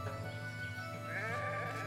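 Sheep bleating in the video game Renowned Explorers: International Society, a quavering animal cry over a low, steady game music bed, fairly quiet.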